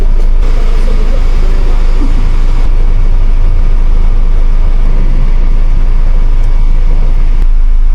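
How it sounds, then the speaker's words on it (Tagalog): A 2019 Ford Ranger diesel engine idles loudly and steadily, its close, constant rumble filling the whole stretch without letup, during a secondhand car inspection in Makati City. "I-check natin kung magbo-blow by ba yung makina. Normal lang tong usok sa diesel."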